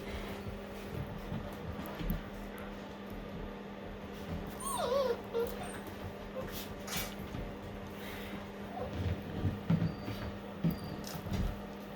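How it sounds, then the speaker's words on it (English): Dalmatian puppies give faint, scattered whimpers and small yips at close range over a steady low indoor hum, with no one talking. "Oh, you stinky little puppies."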